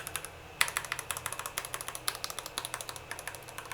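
Keychron K8 Pro mechanical keyboard, brand new out of the box, typed on at a quick steady rhythm, each switch giving a crisp close click-clack in a continuous run of keystrokes with no talking.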